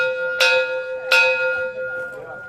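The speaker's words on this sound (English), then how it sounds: "we're gonna ring the dinner bell here." A dinner bell at an outdoor learning center is struck twice, each ring a bright, clear clang with a long sustained tone that rings out and slowly decays, alone and fairly close.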